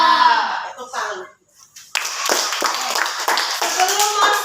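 Classroom children clap together in a burst of dense, steady applause after a brief pause, with a voice heard at the start.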